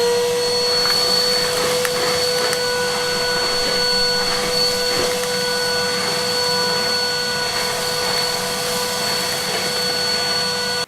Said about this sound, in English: first of all I need to hoover it out, vacuum it. I've got Henry here.